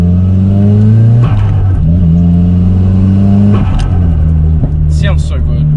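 Nissan Silvia S15 engine revving up and down in repeated rising sweeps, loud and close, with a person talking over it at times.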